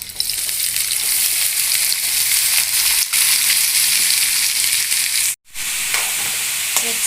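Chopped onions, a full kilogram with tempering spices, sizzle loudly in plenty of oil in a pan, a steady close crackling hiss that briefly cuts out near the end before resuming.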